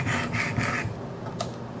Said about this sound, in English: first I'm gonna do a little pass with the 100 grit just so you can see how it sounds